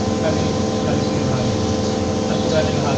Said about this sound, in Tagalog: Ito, Yung blower po sir.